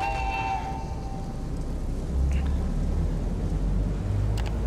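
A train rolls along in the factory-building video game Satisfactory, a steady low rumble with a brief horn-like tone at the start and faint clanks above it, heard alone without talk.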